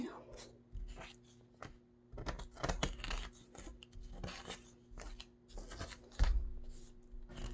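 Scissors or a blade cut through something, giving a series of short crisp snips and tearing scrapes, close and fairly quiet, with faint talking and rustling around them.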